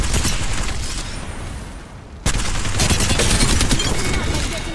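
Rapid enemy gunfire in Apex Legends, a dense, loud continuous barrage that dips briefly, then resumes with sharp bursts and a burst of impact noise, with game effects layered underneath.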